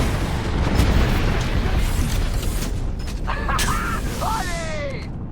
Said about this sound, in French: Le ciel menace. Frappe aérienne.